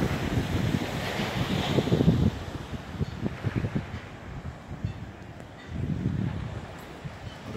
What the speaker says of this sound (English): Nice breeze.